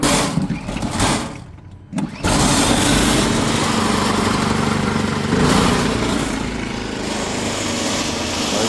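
A portable generator engine fires up after a brief pull and settles into a loud, steady running drone, with a short quiet gap before the start.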